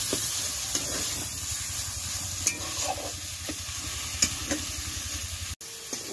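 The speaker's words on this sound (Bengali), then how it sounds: "কচু পাতা দিয়ে মাছের মাথাটা প্রায় হয়ে এসছে। আর 2-5 মিনিট জ্বালালেই হয়ে যাবে।" Fish head simmering with taro leaves in a pan over a village fire, giving a steady close sizzle and bubbling hiss with faint stirring knocks, continuous until it cuts off abruptly near the end.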